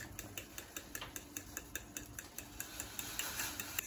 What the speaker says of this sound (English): Keep whisking.